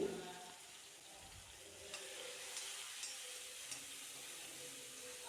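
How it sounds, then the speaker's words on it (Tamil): Finely chopped tomatoes with ginger and green chilli hit a hot frying pan for a no-onion paneer biryani, giving a faint, steady sizzle with a few light clinks. "தக்காளி பொடி பொடியாக திருத்தின தக்காளி போடுறேன்"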